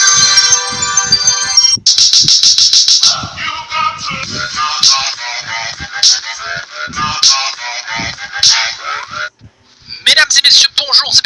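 A bright notification-bell jingle rings clearly at the start, then gives way to busy, rapid talking mixed with sharp electronic sound effects.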